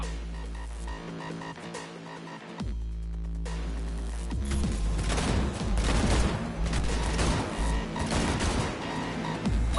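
Gunfire bursts amid a Cyberpunk 2077 car chase, with loud, dense rattling shots and engine roar layered over a steady low hum throughout, after a brief quieter dip early on.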